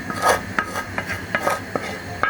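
A spoon stirs fried, browned onions in a cooking pot, scraping and clinking against the metal in an irregular rhythm of close, distinct strokes over a soft background sizzle.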